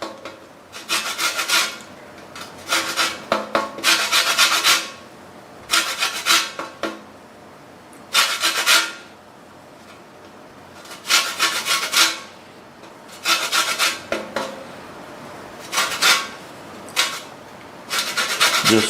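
A whole lemon's peel is grated off in the kitchen: repeated rasping strokes, close and fairly loud, coming in bursts of one to two seconds with short pauses between them, with no talking.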